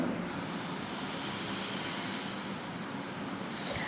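A loud, continuous hiss of dosa batter poured onto a hot pan, steady and close throughout with no voices.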